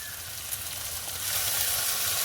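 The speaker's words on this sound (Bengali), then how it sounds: "এবারে আমি জল দিয়ে দেব।" Water poured into hot spiced mustard masala that has released its oil, for mustard pabda fish curry, giving a loud, steady close sizzle and hiss that swells in the second half.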